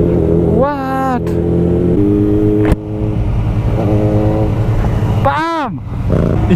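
Yamaha motorcycle ridden with its dB killer exhaust insert removed, engine note rising and falling through loud revs and throttle blips, with harmonic sweeps of hard acceleration over a steady rumble.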